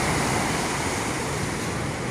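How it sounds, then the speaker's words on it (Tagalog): Strong sea waves wash along the shoreline in the Philippines during a typhoon, a constant loud roar of surf mixed with wind buffeting the microphone, with no talking. "malakas ang alon"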